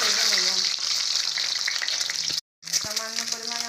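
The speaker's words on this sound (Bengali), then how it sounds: "ডিমগুলোকে হালকা করে ভেজে নেব।" Eggs frying lightly in oil in a pan make a close, bright, continuous sizzle with small pops, broken by a brief silent gap before the sizzling resumes.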